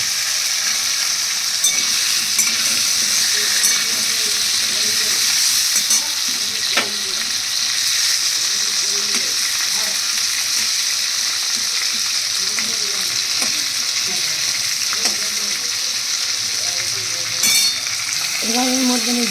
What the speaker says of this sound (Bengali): এবার আমি এর মধ্যে আবার এই মাছের মাথাটাকেও দিয়ে দিচ্ছি।